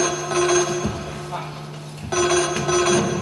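A telephone rings with a steady electronic tone in two bursts separated by a short pause, fairly loud and close, during a stage play.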